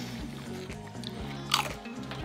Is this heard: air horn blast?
no